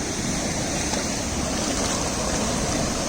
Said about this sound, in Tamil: எப்படி வருதுன்னு தண்ணி பாருங்க ஃபுல்லாக போகுது பாருங்க